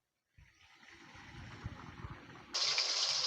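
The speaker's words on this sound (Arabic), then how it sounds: "هنقوم بقى منزلينه في المية كده ومصفيينه ونزلينه في الزيت" Fish dipped into water and drained before frying: a soft watery sloshing builds and fades, then a sudden brighter gush of pouring, draining water takes over near the end, heard fairly close and quiet overall.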